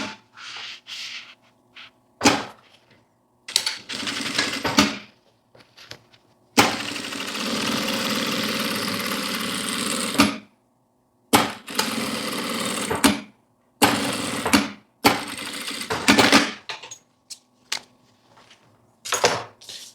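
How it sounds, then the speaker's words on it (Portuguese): Sewing machine topstitching a zipper along a fabric multipurpose case, running in several bursts of rapid whirring stitches, one long stretch of about four seconds, separated by silent pauses; close and loud with no talk. "E vamos fazer o pesponto."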